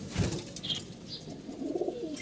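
A pet pigeon gives a soft, low, throaty coo near the end, over faint background noise, with a couple of brief higher chirps earlier.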